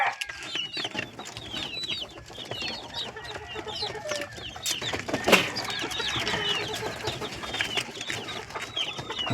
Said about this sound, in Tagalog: mga klase ng manok na to.